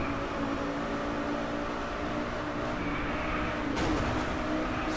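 Engine of a racing car in DriveClub, droning steadily and loud with a continuous throttled roar, a brief burst of noise near the end.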